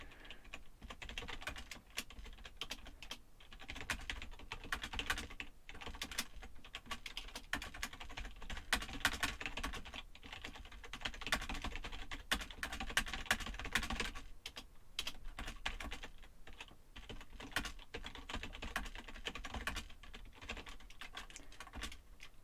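Rapid, continuous clatter of a computer keyboard during a typing test, the keystrokes quick and irregular, fairly soft and close, with no talk over them.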